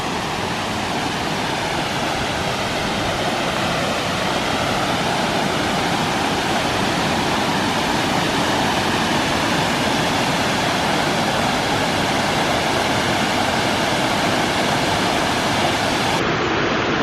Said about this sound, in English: Now you can really hear the water rushing and getting our first glimpse of the upper falls.